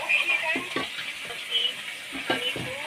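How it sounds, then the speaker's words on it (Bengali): Koi fish fry in hot oil in a kadai, giving a steady sizzle and bubbling with faint stirring, heard close and alone with no talking. "কই মাছটা ভাজা চাপে দিয়েছি।"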